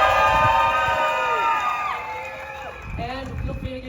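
A protest march crowd in the open cheers and whoops with long high shouts, clapping faintly beneath, the cheering fading then rising again in a second wave of yells.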